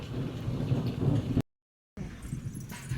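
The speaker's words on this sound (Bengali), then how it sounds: "মেঘ ডাকছে, মেঘ করেছে, বৃষ্টিটা হলে বাঁচি" Thunder rumbles from a heavy sky before a rainstorm, a low continuous roll with rain hiss that cuts out abruptly for half a second, then resumes.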